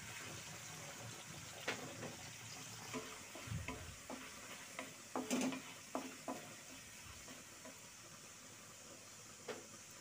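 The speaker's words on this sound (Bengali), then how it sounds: "গরম তেলে সেই মাখানো মাংসটা দিয়ে নিচ্ছি। এবার আমি এটা ভেজে নিব মোটামুটি সিদ্ধ হওয়া পর্যন্ত।" Marinated meat hitting hot oil in a wok while cooking a restaurant-style Chinese vegetable dish, a quiet steady sizzle with occasional clinks and stirring scrapes, close and low in volume.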